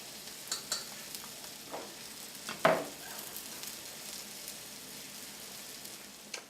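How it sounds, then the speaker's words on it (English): Black bean burgers coated in cornmeal fry in a pan, a steady low sizzle under faint scraping as a spatula flips them, with one sharper clunk partway through. "Alright, so I'm giving these burgers a quick flip."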